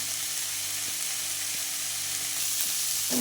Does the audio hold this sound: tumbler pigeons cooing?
no